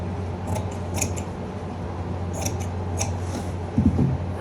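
Scissors snip through fabric while a lined suit is being cut, several quick crisp cuts spaced about half a second apart, close and clear over a low steady room hum, with no talking.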